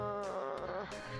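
A mobile phone buzzes loudly and continuously for about a second, giving a steady, harmonic, insect-like drone with no one talking.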